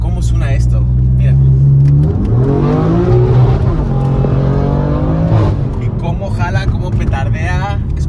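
A BMW M Performance car's engine revs loudly and steadily, rising and falling in pitch over a deep exhaust rumble, with people talking over it throughout.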